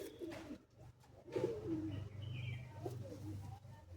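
Teddy and Kamagar pigeons coo steadily and close by, a low rolling murmur that runs throughout over faint background noise.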